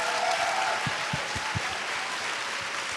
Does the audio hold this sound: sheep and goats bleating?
no